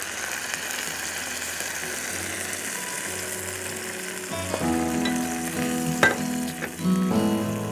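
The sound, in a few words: masala with water and tomato puree sizzling in frying pan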